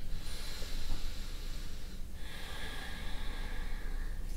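Steady breathing with a breathy hiss and a snort-like exhale, held through a yoga pose in a quiet room, close and fairly faint, no talk.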